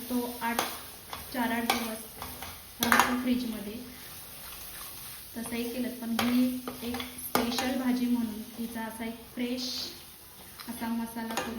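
Masala for a Konkani-style fresh cashew curry is stirred and sautéed in a pan, with repeated scraping spoon strokes and a soft sizzle beneath steady talking in Marathi.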